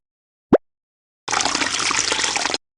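Green liquid pouring in a jelly-making video game: a short rising blip, then a steady synthetic gush of liquid lasting about a second, clean and isolated.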